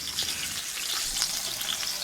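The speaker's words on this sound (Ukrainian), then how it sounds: "Обжарьте мясо в растительном масле с обеих сторон." Meat searing in hot vegetable oil in a pan, a close, steady crackling sizzle with bright spattering pops and no voices.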